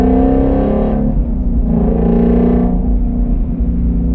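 Ford Shelby GT350 V8 idling near low revs while driving, with a deep, steady exhaust rumble and a few short throttle blips that swell and fall back, loud and close.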